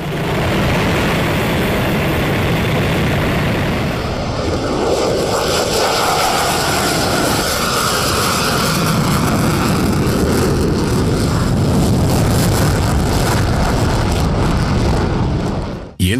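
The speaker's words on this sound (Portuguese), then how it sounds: "o monstruoso som produzido pelos caças e os aviões civis" Jet aircraft engine roar, loud and continuous broadband rumble with a steady high whine, sustained close for about sixteen seconds before cutting off abruptly.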